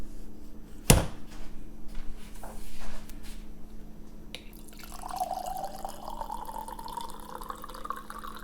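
Cabernet Sauvignon flowing from a boxed wine's plastic spigot into a glass: a sharp click, then a thin, steady trickling pour rising slightly in pitch as the glass fills, heard close and fairly quiet.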